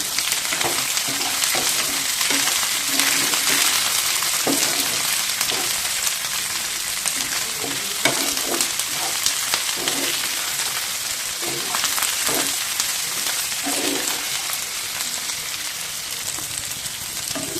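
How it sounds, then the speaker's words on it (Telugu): Ingredients for tomato rice frying in a pan, with a loud continuous sizzle and regular stirring scrapes and taps of a spatula, close up and steady throughout. "ఇలా అయితే బాగా వేయించుకోండి"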